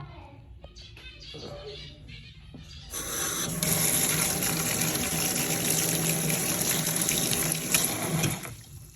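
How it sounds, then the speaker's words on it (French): Sprouting soybeans being rinsed, as running water pours steadily and loudly for several seconds after a quieter start with handling sounds. "Donc il faut juste rincer."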